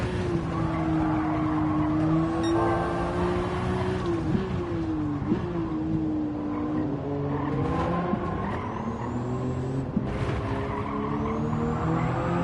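A racing car in a video game oversteers and skids, its tyres squealing in long wavering tones over a steady engine drone that rises and falls, loud and close throughout.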